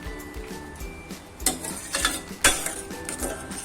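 A spoon stirs thick, creamy dudh pak milk dessert in a pot, scraping and clinking against the metal in a few uneven strokes, close and moderately loud, with no voices.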